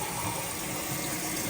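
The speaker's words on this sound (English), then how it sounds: "So let's give this a flush." A household toilet tank refills with steady rushing water right after a flush, a continuous broadband hiss filling the whole short stretch with no voices.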